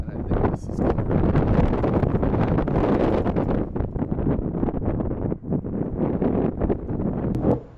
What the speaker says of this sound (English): it was pretty strong, 35, 40 mile an hour wind gusts, and it was pretty constant